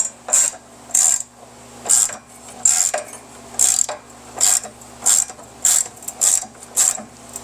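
A ratchet wrench tightening a bolt through a metal pallet rack bracket: about a dozen bursts of rapid, close, loud clicking in a steady back-and-forth rhythm, with short pauses between strokes.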